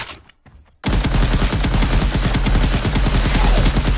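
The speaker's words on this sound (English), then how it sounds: "Now you can shoot all the zombies you want." Rapid automatic gunfire shooting zombies in an Unreal Engine zombie survival game: after a brief quiet moment, a loud, steady stream of closely spaced shots continues to the end.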